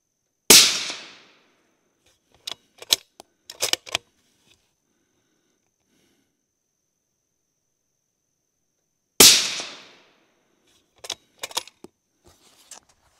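Two sharp, loud rifle shots from a Proof Research Conviction ring out several seconds apart, each followed by a quick decay, with metallic clinks of bolt handling after each one.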